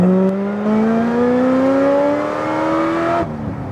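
A 2009 Corvette ZR1 making over 750 wheel horsepower accelerates hard in second gear, its engine note climbing steadily in a loud, close, rising drone before a sudden drop in revs near the end.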